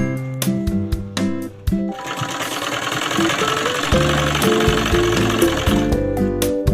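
A sewing machine stitches gum piping onto fabric, opening with a few short start-stop bursts and then running in a loud, continuous rapid mechanical whir close to the listener.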